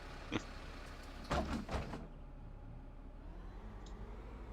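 Setra S417 coach door in Bus Simulator 21 opening with a pneumatic hiss and a few clunks, a brief mechanical sequence followed by quiet idle hum.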